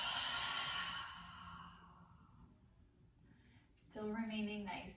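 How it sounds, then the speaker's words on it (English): A long, slow exhale during a guided yoga breathing exercise, soft airy breath fading over a couple of seconds, followed by a voice speaking nearby. "Exhale, let it go."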